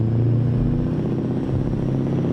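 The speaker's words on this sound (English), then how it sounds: "Oh, listen to that engine. Just listen to that engine." A modded car engine idles with a steady low rumble and clattering, close and loud throughout, without a clear rise into revs.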